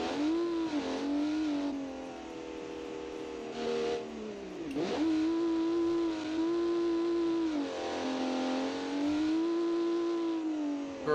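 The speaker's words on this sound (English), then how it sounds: "Because all I hear is an engine roaring." Modern Group B rally car engine in the BeamNG driving game roaring through repeated rev climbs and drops during gear changes, loud and continuous with no talk.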